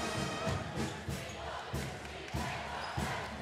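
Packed crowd at a CIT basketball game as teams warm up: steady arena murmur with repeated thudding ball bounces in a regular rhythm, fairly faint overall.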